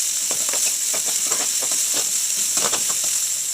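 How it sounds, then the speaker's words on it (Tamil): Onions sautéing in hot oil with popped mustard seeds for bread upma: a steady, loud sizzle and hiss with scattered crackles and stirring clatter, continuous throughout with no talking. "பொரிஞ்சதுக்கப்புறம் கட் பண்ணி வச்சுருக்க வெங்காயத்தை போடுவோம். போட்டு அது நல்லா வதங்கட்டும்."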